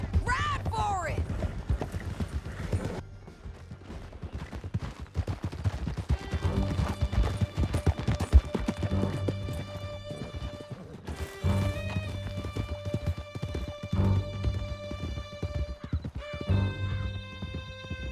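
Horses gallop with steady clip-clop hooves and an occasional whinny during a wild ride through a canyon in Red Dead Redemption 2, set under a sustained musical score with a brief pause in the action partway through.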